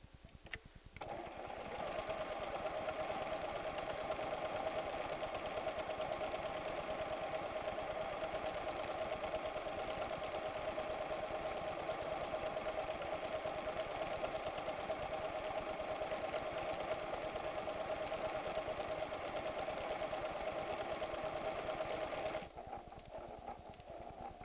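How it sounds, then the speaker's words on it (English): A PFAFF creative 7550 sewing machine stitches a name in one continuous run of rapid, even mechanical whirring for roughly twenty seconds, then halts. "I only want to sew my name once, so I'll engage the single pattern key."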